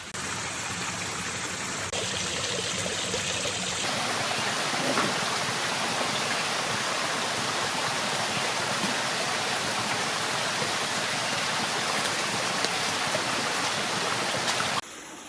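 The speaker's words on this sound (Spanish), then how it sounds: "Y así es como se va formando la quebradita." Spring water trickles from the ground to form a small stream on an abandoned farm, a steady close rush of broadband water noise that runs unbroken for about fifteen seconds.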